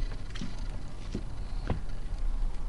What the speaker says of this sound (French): On entend les bruits de la pluie, parce que la pluie est en train de tomber.